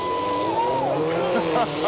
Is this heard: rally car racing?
yes